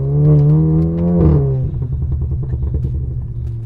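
A tuned Volkswagen Golf R drives along with a loud, close engine tone that holds steady and then drops into a rough, low rumble as the car settles into cruising.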